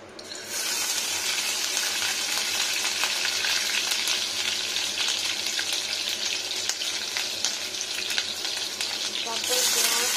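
Ginger frying in hot oil, a loud, steady close sizzle that starts abruptly and holds for several seconds.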